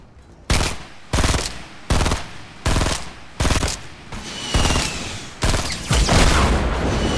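Gunfire in Fortnite, shooting a built structure out from under another player: loud bursts of automatic fire in regular pulses of roughly half a second, separated by short gaps, ending in a longer sustained burst.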